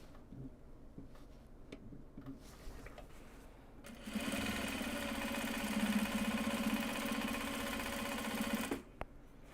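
A sewing machine stitching interiors for project bags made from Japanese fabrics, a fast even mechanical whirr that starts after quiet handling clicks and runs steadily for about five seconds before stopping.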